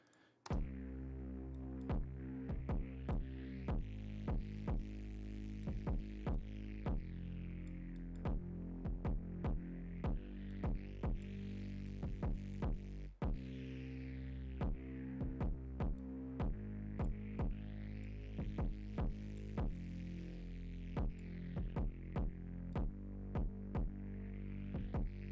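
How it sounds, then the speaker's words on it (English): Kick drum in a type beat, with a sidechain compressor attached for a quick recovery, thumping steadily under a sustained synth pad and rhythmic clicks, at a low level with no voices. "flip open my sidechain compressor and attach it to that kick"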